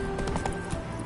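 The horse Roach gallops in The Witcher 3 video game, a quick, steady clip-clop of hooves, close and fairly loud, with no talk.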